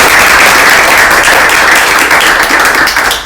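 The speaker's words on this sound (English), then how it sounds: "a big round of applause for Wheelhouse, please" A room full of people gives loud, dense applause for the cannabis dispensary hosting the event, a close, continuous wash of clapping that holds steady and then starts to ease toward the end.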